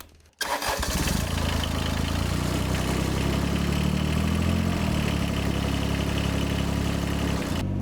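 A tractor engine cranks and catches after a brief quiet moment, then settles into a loud, steady, close-up diesel idle that runs without a break, with no voices heard.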